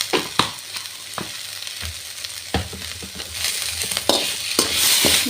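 Cumin and coriander seeds frying in a pan, a steady close sizzle broken by sharp stirring scrapes and knocks at an irregular pace, growing louder and hissier toward the end.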